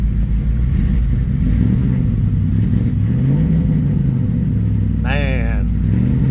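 A heavily modified 2008 Ford F150 King Ranch crew cab with a 5.4 Triton V8 rumbles loudly through an aftermarket exhaust, a steady low drone with mild revving swells, while someone talks over it throughout.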